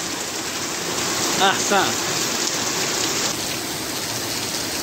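Spring rain falls on Baku streets, a constant close patter and hiss on hard surfaces; someone speaks a short word partway through.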